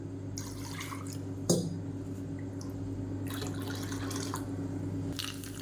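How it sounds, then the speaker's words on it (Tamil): Rinse water from a mixer jar is poured into ground chutney, giving faint, intermittent splashes and drips over a low steady kitchen hum. "இப்போ மிக்சியை அலசிட்டு அந்த தண்ணி சேர்த்துக்கலாம்"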